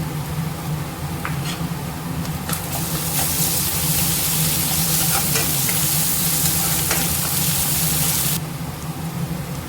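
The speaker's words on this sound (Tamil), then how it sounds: "இஞ்சி பூண்டு நல்லா வதங்கிருச்சு" Crushed ginger and garlic fry in a pan for chicken curry, a loud, continuous close-up sizzle with occasional stirring clicks, briefly intensifying in the middle.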